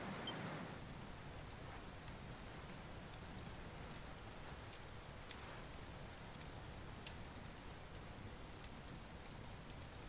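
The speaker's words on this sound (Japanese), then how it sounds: "外はまだ雨よ。" Steady rain falls outdoors in the game Dragon Quest XI, a soft continuous hiss holding at low level throughout with faint scattered drips, no voices over it.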